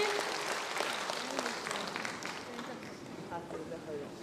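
An audience applauds for the conductor at an evening orchestral concert marking the 60th anniversary of the Butterfly Lovers concerto, a dense, sustained clapping that fades gradually while an amplified voice speaks over it.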